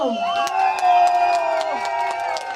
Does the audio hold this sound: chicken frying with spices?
no